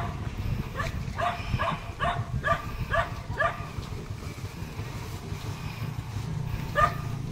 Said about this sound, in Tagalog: Maingay aso.